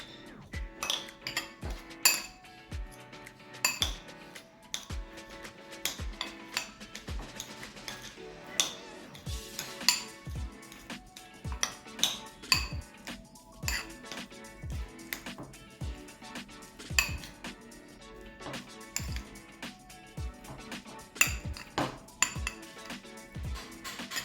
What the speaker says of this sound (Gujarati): ચીલી ફ્લેક્સ, કોથમીર પ્રોપર મિક્સ કરી લઈશું.